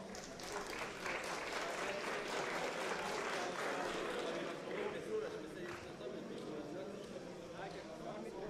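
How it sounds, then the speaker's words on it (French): Audience clapping for two robot teams just finished at a Eurobot robotics competition, a steady mid-level wash of hands across the whole stretch with a busy room murmuring beneath. "On peut applaudir bien fort les deux équipes qui viennent de performer sur cette table."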